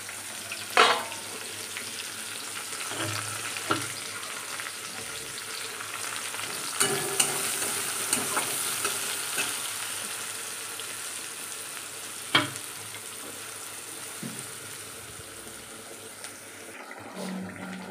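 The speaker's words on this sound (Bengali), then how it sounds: "এদিকে দেখো চিংড়ি মাছ হচ্ছে" Prawns frying in a pan, a dense, even sizzle of hot oil running throughout with occasional soft clatters of a utensil.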